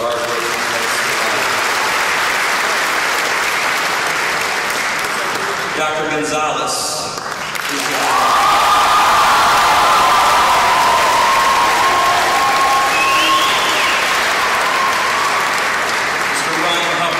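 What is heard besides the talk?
graduation ceremony audience applause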